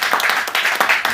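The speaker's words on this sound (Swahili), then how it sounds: "Tumpe Yesu sadaka ya makofi mazuri kama tunasikiliza." A church congregation claps together during a Swahili sermon, producing a brief, fairly loud burst of uneven hand claps with no speech.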